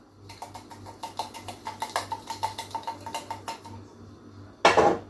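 Wrap filling stirred and sautéed in a pan after salt and pepper go in, a quick, regular run of utensil taps and scrapes on metal, then a sharp louder clatter at the end.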